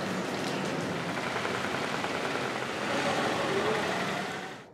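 Heavy rain falling in Colombo, a steady dense hiss of downpour on surfaces with faint traffic beneath, lasting throughout and fading slightly at the very end.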